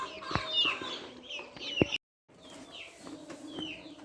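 Golden hens and a rooster on a farm on a very cold winter morning cluck in short repeated bursts with a couple of sharper knocks, close and moderately loud, broken by a brief gap of silence.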